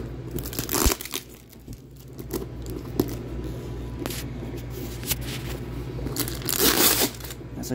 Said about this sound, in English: I think it's time to go open the box.